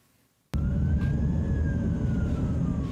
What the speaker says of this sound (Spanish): La ambulancia trasladó de urgencia al matrimonio de agricultores Allende Pino